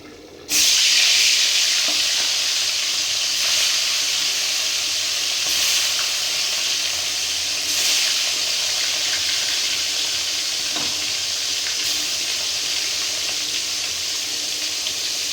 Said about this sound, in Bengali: তেল গরম হয়ে গেছে, এবার কিন্তু ছেড়ে দিতে হবে সব তেলের ভিতরে মাছগুলোকে